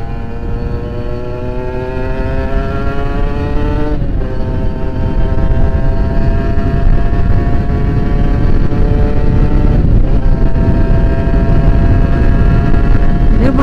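A 2015 Kawasaki Ninja R special edition two-stroke motorcycle riding at speed, its loud, steady engine drone holding nearly constant pitch with two brief dips as the throttle eases, wind noise underneath.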